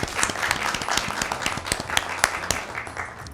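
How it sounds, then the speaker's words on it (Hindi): Clapping from a small audience at a Christian family Easter gathering, a run of sharp, distinct hand claps at an uneven rhythm, fairly close and loud, with no voices. "इस बात के लिए ज़ोरदार तालियां होनी चाहिए"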